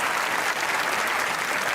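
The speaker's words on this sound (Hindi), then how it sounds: "ओ भाई ताली होनी चाहिए।" A studio audience at a Pakistani TV talk show claps steadily, a dense, loud burst of applause throughout with no voices over it.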